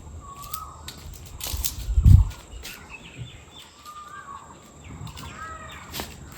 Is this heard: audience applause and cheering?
no